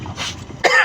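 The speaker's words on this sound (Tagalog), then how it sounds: "Inuubo ako." A single close cough bursts out sharply after a stretch of quiet street ambience, followed by a brief rougher throat-clearing rasp.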